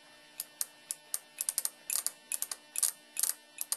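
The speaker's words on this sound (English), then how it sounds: "you can hear the relay closing" A 12-volt relay in a water-sensor circuit clicks repeatedly, giving a quick, irregular run of sharp, close mechanical ticks over a faint steady hum.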